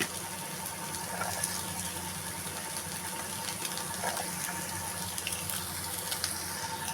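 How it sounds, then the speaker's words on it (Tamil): Onions frying in a pan of hot oil with mustard seeds and urad dal give a steady, close sizzling hiss that holds constant throughout with no one talking. "இப்போ நம்ம வந்து வெங்காயம் போட்டிருக்கோம். கடுகு, உளுத்தம்பருப்பு பொரிஞ்சோடனே வெங்காயம் போடணும்."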